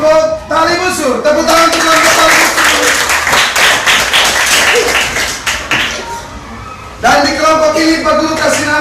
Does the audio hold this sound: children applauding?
yes